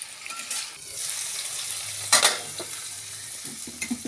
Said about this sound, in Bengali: সব উপকরণগুলো ভালো করে আমি নেড়ে নেবো সাথে।